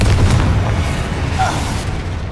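Confringo blasting spell detonating in Hogwarts Legacy combat, a heavy booming blast followed by a sustained low rumble that fills the whole moment without fading much.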